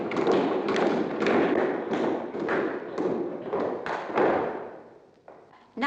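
Clog dancers stamp out a Cossack dance on a hall stage, heavy thuds landing in a fast, regular rhythm with a dense rumbling wash behind them before the pounding trails off.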